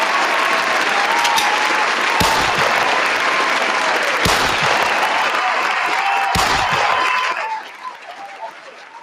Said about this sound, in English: So let me go on and give everybody the hand claps and the gunshots.